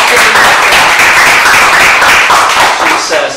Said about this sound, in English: another round of applause for Stacy